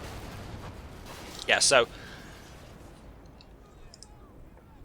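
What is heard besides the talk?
cannon firing in a video game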